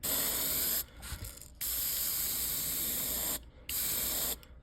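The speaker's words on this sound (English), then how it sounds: "After you've been spraying a while, you can tell by the sound of your brush" Airbrush spraying paint onto a fishing lure, a steady close hiss in three bursts separated by short pauses, alone without talk.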